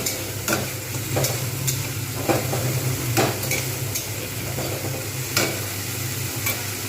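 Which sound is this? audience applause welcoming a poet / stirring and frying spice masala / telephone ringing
stirring and frying spice masala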